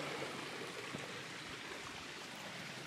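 Steady, broadband rush of a stream flowing beside a hiking trail on the Arizona Trail, heard up close and continuous with no voices over it.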